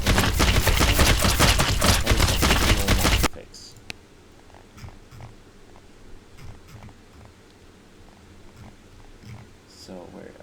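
A loud, dense stream of rapid machine gun fire from a custom tank in the game AW3 rattles continuously for about three seconds, then cuts off into a quiet background with only faint scattered clicks.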